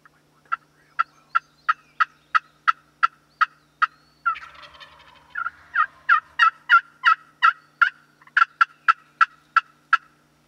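Wild turkeys at close range during a Michigan turkey hunt: a long, steady series of loud, sharp calls, broken midway by a rattling gobble, with no talking.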